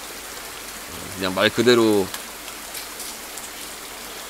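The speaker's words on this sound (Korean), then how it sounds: "이제 비가 오는 날에 이제 힐링을 하는 뭐 그런 게임이 아닐까" Steady, soft rain falls in the video game Rainy Season, set in a Japanese house during the monsoon season, a continuous gentle hiss with someone briefly speaking over it.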